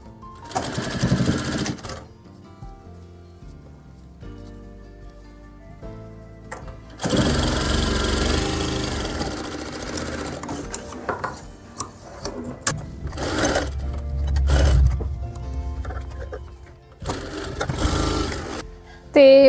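Sewing machine stitching a lined shirt: rapid mechanical whirring in several bursts, close and loud, with quieter stretches between runs and faint handling noises.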